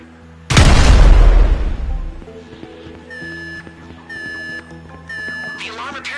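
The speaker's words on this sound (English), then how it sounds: "An explosion will tend to do that." A planted charge detonates in GTA V during a raid on a federal building, a loud deep boom that rumbles and fades over about two seconds, followed by a ringing alarm tone and quieter game ambience.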